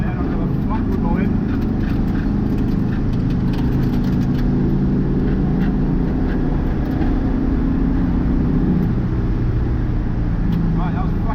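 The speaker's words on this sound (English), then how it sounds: "It's a 1965 air-cooled Beetle, man, it's not meant to be doing this." An air-cooled 1965 Volkswagen Beetle accelerates hard in a steady, loud interior engine drone that runs the whole time, with people talking over it.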